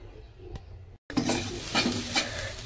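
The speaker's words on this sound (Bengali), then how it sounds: "বিনস, গাজর, বাদাম আর কাঁচা লঙ্কা, পেঁয়াজ একসাথে ভেজে নিয়েছি" Beans, carrots, peanuts, green chilli and onion stir-fried together in a pan, with steady scraping and stirring and a soft sizzle running throughout, close up, after a brief pause.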